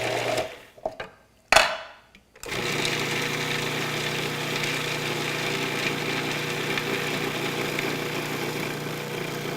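A Cuisinart food processor whirs steadily and loudly at close range as olive oil is added to emulsify mint pesto. A few brief clunks and pauses come first, then the motor runs on without a break.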